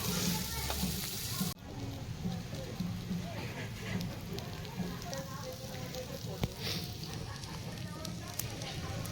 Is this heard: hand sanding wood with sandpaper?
no